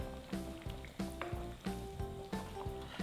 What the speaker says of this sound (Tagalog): Tapos hahaluin ko lang.